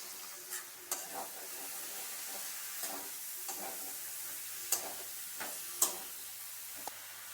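Ash gourd pieces sizzling in a pan with a soft, steady frying hiss, broken by occasional light scrapes and taps of the spoon as they are stirred, quiet and close, with no talking.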